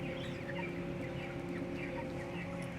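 Chickens cluck continuously inside an indoor chicken farm, many birds overlapping in a dense, busy chatter over a steady mechanical hum, with no talking.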